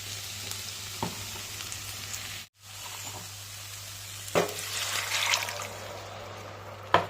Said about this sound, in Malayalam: ഇനി ഇതിൻ്റെ അകത്തൂടെ കുറച്ച് വെള്ളം കൂടെ ചേർത്ത് നമുക്ക് ഇതിലേക്ക് ഒഴിച്ചു കൊടുക്കാം.